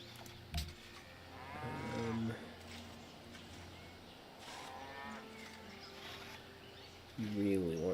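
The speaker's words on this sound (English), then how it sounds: "I mean, there's cattle, so that's understandable." Cattle in the video game Civilization V give several long, drawn-out moos with rising and falling pitch, moderately loud, over a low background murmur.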